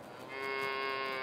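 A cow moos in Farming Simulator 22 on a livestock farm, a single sustained low call that swells after a brief start and holds steady and fairly loud, alone with no talk.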